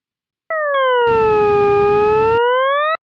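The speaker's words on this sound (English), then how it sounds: "First, the same graph as sounds on the website of Desmos, the website I talked about." A graph sonified as sound on the Desmos website plays as a loud, pure tone that dips in pitch and then rises again, with a brief burst of noise partway through, before cutting off abruptly.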